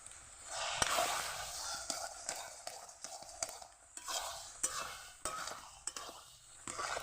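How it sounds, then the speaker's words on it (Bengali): A utensil scrapes and stirs taro leaf greens (kochu shak) with crushed fried chilies in a pan, a soft sizzle running beneath repeated quiet scraping strokes at close range. "অনবরত লাতে থাকবেন, নিচ দিয়ে যেন লেগে না যায়"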